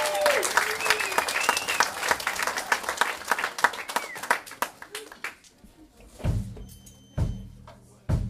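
Audience applause after a live band performance, a crowd clapping loudly and densely before fading to a few scattered claps, with a short spoken voice near the end.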